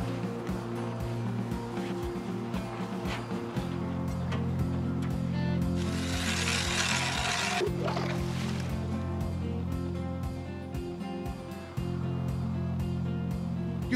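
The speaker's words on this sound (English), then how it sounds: "Nikolai and Ilya, who come here regularly to drill through the ice." A motorized auger bores through frozen lake ice for ice fishing in Russia, its steady engine drone running throughout, with a burst of harsh grinding hiss midway as the bit cuts through.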